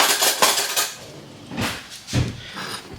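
Cutlery clinks and rattles close by as a spoon is picked out, a cluster of clattering knocks followed by a couple of separate thuds.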